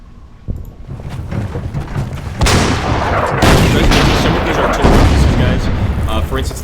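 Artillery pieces, including a 7.5 cm leIG 18 gun, firing in the Order of Battle: Blitzkrieg war game, heard as repeated loud booms and blasts that swell into sustained rumbling barrage noise, with a voice faintly present beneath.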